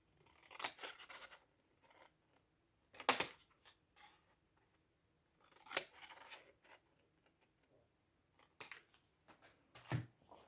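Scissors snip through white card to cut bunny whiskers, a series of short, crisp cuts in separate bursts with quiet pauses between them, close and fairly soft.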